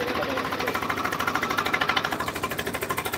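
A Mahindra tractor engine runs close by with a steady, rapid mechanical chugging, loud and continuous throughout with a regular pulsing beat.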